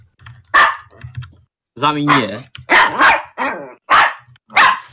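A dog barks in short repeated bursts, close and fairly loud, mixed in among people talking over a gaming voice chat.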